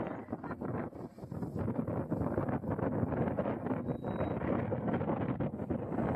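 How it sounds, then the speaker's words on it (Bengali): Continuous roar of sea waves washing onto the shore at Shankarpur beach, buffeted by heavy wind noise on the microphone, loud and steady throughout. "দেখো কত সুন্দর সমুদ্রের জল আসছে"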